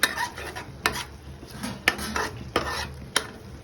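A spoon stirs carrot halwa ingredients in a pan, scraping and clinking against the metal in a steady rhythm of sharp knocks about once a second over a soft sizzle.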